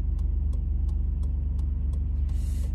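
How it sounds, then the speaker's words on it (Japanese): A Nissan Skyline GT-R with a 2.6-litre RB26 engine and Fujitsubo muffler idles with a steady low rumble and a smooth, even throb, close by and alone, with faint periodic ticks above it. "やっぱり RB26 の音はいいですね"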